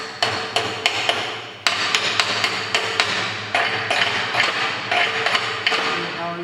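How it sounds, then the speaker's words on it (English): A hammer chips slag off a weld in a welding workshop, striking metal in sharp, ringing taps about twice a second, loud and close over a steady workshop hum. "Now you can see I am chipping the plastic"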